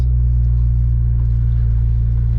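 A 2021 McLaren 720S pulls away, its engine a loud, close, steady low rumble with a smooth drone and no talk.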